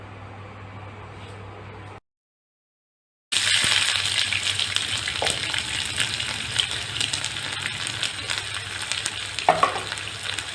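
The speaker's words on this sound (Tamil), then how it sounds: "இப்போ இந்த ஆனியனை சூடாக இருக்கிற எண்ணெயில் நம்ம சேர்த்துக்கலாம்" Onions frying in hot oil for an egg sweet and sour dish: a steady bright sizzle after a short silent gap, with occasional stirring clicks.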